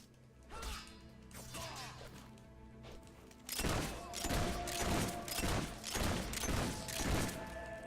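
Gunfire from the video game Fable 3 rings out as a rapid string of sharp, loud shots that grow denser in the second half, mixed with other game clatter and no speech.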